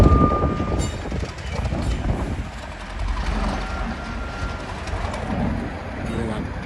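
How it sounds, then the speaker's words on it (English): A train passing on a London railway: continuous loud rumble and rolling rail noise filling the whole stretch, close by, with faint voices and birds in the background. "The train is going there."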